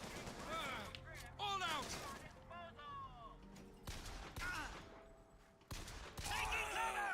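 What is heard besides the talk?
gunfire in the video game BioShock Infinite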